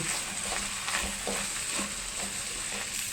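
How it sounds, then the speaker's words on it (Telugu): Tomato pieces fry in a pan with turmeric and chili powder for dal khichdi, producing a soft, continuous sizzle with occasional stirring scrapes. "ఇది కొంచెము పచ్చివాసన పోయేంత వరకు వేయించుకోవాలి"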